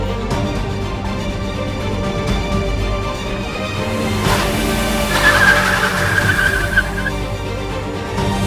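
A speeding car skids as it nearly strikes someone on a street, a bright screeching streak rising over steady background noise for about two seconds, with no talk over it.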